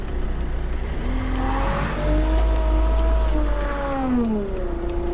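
A diesel-swapped Jeep TJ Wrangler running at temperature, a steady low engine drone with tones that rise and fall as the revs shift, loud and close throughout.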